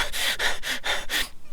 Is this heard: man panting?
yes